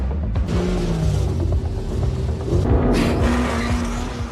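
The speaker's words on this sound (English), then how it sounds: "He drives the vehicle at top speed and intentionally hits with Terry and Macker's car from behind" A car races at top speed with tires squealing and skidding, the engine roaring close and loud before ramming into another car from behind in a film chase scene.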